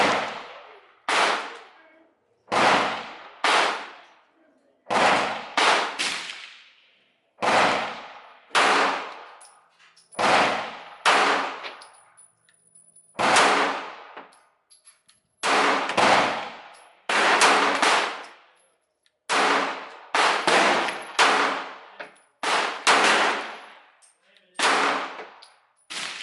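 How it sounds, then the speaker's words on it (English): Gun nicknamed the chimichanga firing ten rounds, sharp loud reports each ringing out with a metallic decay, spaced roughly one to two seconds apart in an uneven series, with no talking. "Oh, ran out of ammo. 10 shots, you guys."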